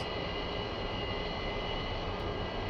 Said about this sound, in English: Now that we got the left engine fired up, we're going to go to the right engine.